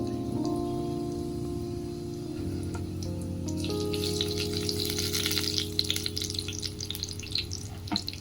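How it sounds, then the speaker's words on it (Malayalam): Cumin seeds fry in hot oil in a pan for makhani paneer, a dense steady sizzle that brightens and crackles more busily partway through, close, with a low constant hum beneath. "ഇനി നമ്മൾ എണ്ണ ഒഴിച്ചിട്ട് ജീരകം ഇട്ടു"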